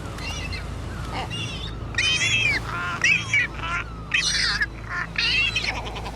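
Loud, repeated honking and squawking calls of young seabirds and their big-beaked parents on a French coastal cliff, overlapping cries rising and falling over a steady low rumble of wind or surf.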